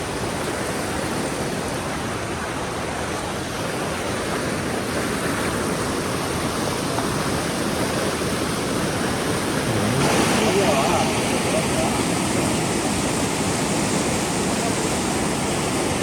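Dudhsagar waterfall in Goa pours with a loud, unbroken broadband roar that fills the whole stretch and swells slightly partway through.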